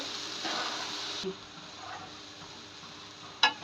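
Green chillies, spices, lentils and rice for bhuna khichuri being sautéed and stirred in a hot pan: a dense sizzling hiss that is bright at first, then eases, with a sharp clink of utensil near the end.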